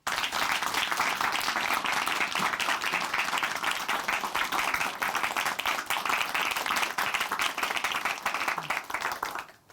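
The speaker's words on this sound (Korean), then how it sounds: "춘천 한마음교회 최영임 자매님 박수로 모시겠습니다." A church congregation applauds to welcome someone speaker to the front, a dense, steady wash of many hands clapping at full volume for nearly ten seconds before trailing off at the end.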